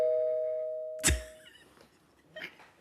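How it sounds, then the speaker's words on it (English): A doorbell chimes indoors: a sustained two-tone ding held for about a second, then a sharp knock-like thump and a fainter second tap, with quiet room tone around it. "Did y'all hear the doorbell?"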